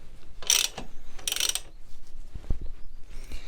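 Ratchet wrench with a 10mm socket tightening small bolts on a Super Soco TC Wanderer motorcycle's rear brake caliper and disc, heard as two bursts of quick clicking followed by a few duller mechanical knocks, close up with no talking.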